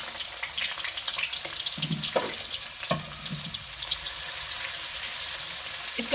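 Chopped large onion frying in ghee, a steady bright sizzle running throughout with a few soft stirring knocks partway through.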